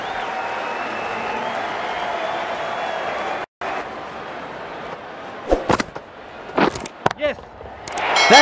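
Cricket stadium crowd at an England versus Australia T20 match roaring and applauding, a sustained broad wash of cheering followed by sharper bursts and claps, with commentary voices over the top.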